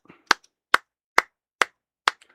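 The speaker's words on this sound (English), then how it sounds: "Bro, we got to give a soul clap." Five slow, sharp hand claps ring out at a steady, deliberate pace, each one crisp and close with a short silence between.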